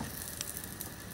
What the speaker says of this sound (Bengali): লাল লাল করে বেশি করে ভাজলাম বুঝছো, নাহলে কাঁচা কাঁচা লাগে।